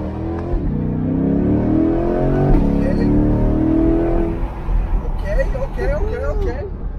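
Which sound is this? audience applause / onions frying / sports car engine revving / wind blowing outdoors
sports car engine revving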